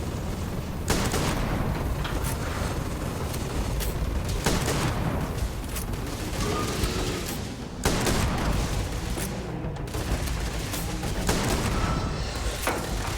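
Shotgun blasts in the sci-fi shooter Starfield, loud and close, with repeated heavy bursts over dense combat noise that runs continuously through the fight.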